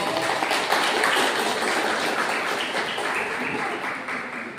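A congregation claps in praise of God during a Christian sermon, a dense, steady wash of many hands that stays close and even for the whole stretch.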